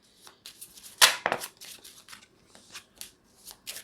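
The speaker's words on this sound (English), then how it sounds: "I'm going to hand the deck to the spectator and have them give the cards a few shuffles." A spectator shuffles a deck of playing cards for a card trick, giving a few close, crisp riffling bursts with brief pauses between, one louder flurry near the start, no talking.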